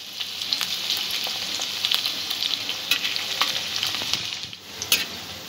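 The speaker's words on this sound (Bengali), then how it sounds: "পেঁয়াজটা হালকা ব্রাউন করে একটু ভেজে নিতে হবে।" Sliced onions sizzle steadily in hot oil in a pan while a spoon stirs them, scraping and clicking close by at irregular moments, with no voices.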